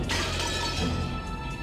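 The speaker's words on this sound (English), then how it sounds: "The glass smashed with a violent sound, and the frame groaned and creaked." A glass window is smashed with an antique chair in a sharp video game sound effect, a loud shattering burst followed by a sustained tinkling crash.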